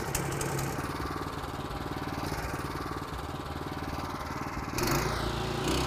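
A walk-behind flail mower's small gasoline engine runs loud and close with a steady, buzzing drone, briefly surging louder near the end.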